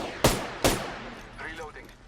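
Gunfire in the video game Apex Legends: two sharp, loud shots about half a second apart, followed by fading game noise and faint voice-like sounds.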